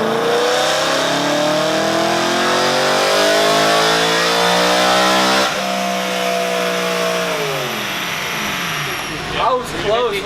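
A BMW M3 engine revs hard on a dyno, its pitch climbing steadily to a peak before dropping off and winding up again briefly, loud and close throughout.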